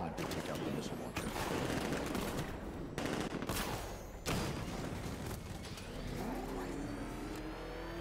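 Rapid bursts of video-game gunfire in Batman: Arkham Knight, aimed at a missile launcher, rattle loudly and almost continuously over a roaring engine, with heavy impacts punctuating the barrage.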